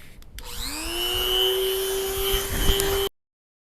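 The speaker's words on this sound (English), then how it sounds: "I think these Dremels cut this plastic so much better than using an angle grinder" A Dremel rotary tool cuts through a plastic front bumper on a high-clearance offroad rig, spinning up into a steady high-pitched whine with bright overtones and holding close and loud for about three seconds before stopping abruptly.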